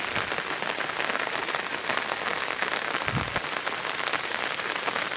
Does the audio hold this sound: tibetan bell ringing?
no